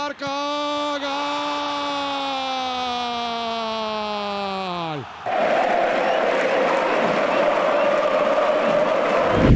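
A stadium football crowd erupts into a loud, dense roar of cheering for an ovation, bursting in abruptly after a long sustained tonal sound and holding steady to the end.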